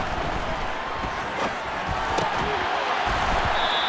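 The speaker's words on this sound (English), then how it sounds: "the crowd getting into it as we come up on a big 3rd down" A Madden NFL 23 stadium crowd on a big third down: a steady, loud roar of cheering that swells slightly, with a few sharp claps and thuds over it.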